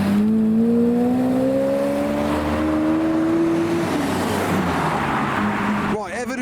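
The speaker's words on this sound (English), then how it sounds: "Right, evidence that it is a hypercar show right there with the Zonda" A Pagani Zonda 760 Attack hypercar drives past at a hypercar show, its loud engine note climbing steadily in pitch before a sharp gear change near the end, with traffic ambience and some background talk.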